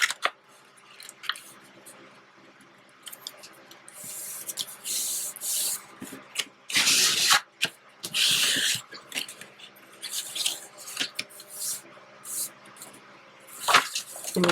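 Paper being folded back by hand to form a journal flap pocket, giving crisp rustling crinkles and creases in bursts, louder around the middle and at the end, with quieter handling between.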